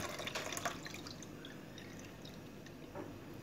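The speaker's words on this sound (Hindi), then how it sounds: "एक बार फिर हम इसका पानी गिरा देंगे ऐसे," Water is poured off freshly washed taro root (arvi) in a kitchen, a quiet close dribble and drip that trails away to faint splashes.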